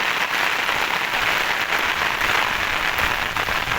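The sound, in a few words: heavy rain falling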